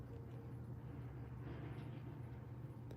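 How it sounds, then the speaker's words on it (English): Steady low rumble of road traffic passing outside a home, a continuous loud drone of engines and tyres with no pauses or talk. "Excuse the traffic outside"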